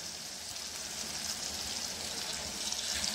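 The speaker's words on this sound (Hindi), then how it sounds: "2 घूंट हम इसके अंदर पानी ऐड करेंगे" Water is added to a pan of minced meat and pea masala being cooked, giving a steady, close hiss and sizzle that holds evenly throughout with no talk.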